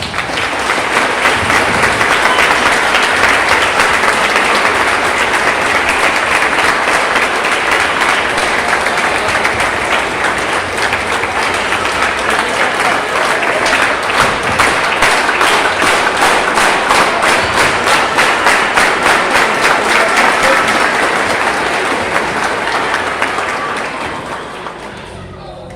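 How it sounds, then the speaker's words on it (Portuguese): A long, warm round of applause from the crowd at a 25th-anniversary DeMolay ceremony in Adamantina. Dense, loud clapping continues steadily for over twenty seconds, then fades at the end. "saudá-los com uma calorosa salva de palmas"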